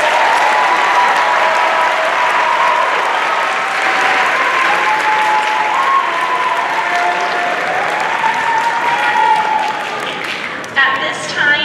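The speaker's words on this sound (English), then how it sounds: "Please give them a round of applause." Sustained audience applause for the San Joaquin County 2024 Honors Orchestra at a middle school honors concert, a dense, steady wash of many hands clapping throughout that thins slightly near the end.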